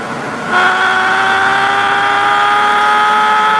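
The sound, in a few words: 1998 Mark 4 Supra engine at top speed in a car parking video game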